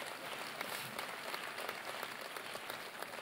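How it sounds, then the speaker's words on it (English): A church congregation applauding during a Sunday service, dense steady clapping from many hands filling the room, fairly distant and even throughout. "Clap well for them."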